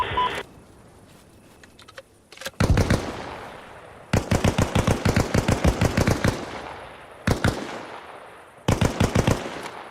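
Bursts of gunfire in the military video game Arma Reforger, with rapid automatic volleys of sharp, closely spaced shots separated by brief pauses, loud and near, with no talk.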